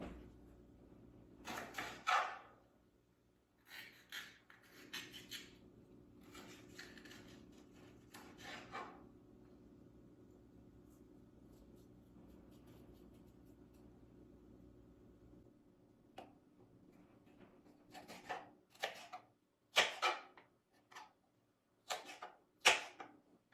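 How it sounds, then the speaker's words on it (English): A knife chops a single mini bell pepper on a cutting board, with several bursts of quick, crisp cuts near the start and another run of sharp strokes toward the end, close and clear in a quiet kitchen. "I'm just gonna chop up 1 mini pepper"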